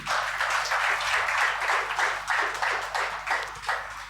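A church congregation claps together in steady rhythmic bursts during an anniversary service, loud and close for about four seconds with no speech over it.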